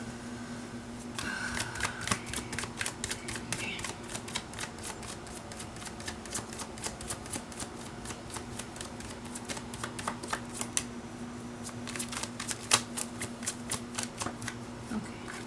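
Tarot cards are shuffled close up in a long, rapid run of crisp riffling flicks, almost continuous with brief pauses, and no talk.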